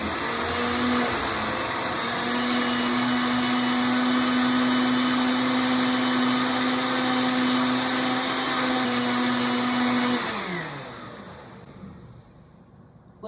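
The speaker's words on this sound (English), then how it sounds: "Once all your ingredients are in the blender, just turn it on and blend until they're combined." A kitchen blender whirs steadily at high speed, blending clafoutis batter of eggs, milk and flour, a loud constant motor whine that winds down near the end as it is switched off.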